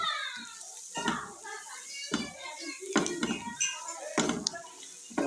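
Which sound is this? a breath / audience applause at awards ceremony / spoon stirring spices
spoon stirring spices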